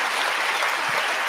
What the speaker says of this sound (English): And the clapping.